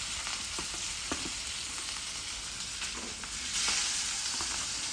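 Fish frying in a pan in a home kitchen, a soft, steady sizzling hiss with scattered crackles and pops, swelling slightly toward the end.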